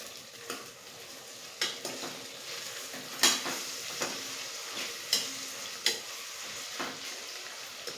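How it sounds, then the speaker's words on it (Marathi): Chili pieces and other ingredients are stirred together in a pan for an Indian-style rice dish, making a soft continuous sizzle with scraping and several distinct clinks of a spoon against the pan, close and moderately quiet. "आता आपण सर्व साहित्य एकदम मिक्स करून घेऊयात."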